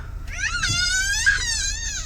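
A baby fussing and crying inside a car during a traffic jam, a close, sustained wailing with rising and falling pitch over low engine rumble.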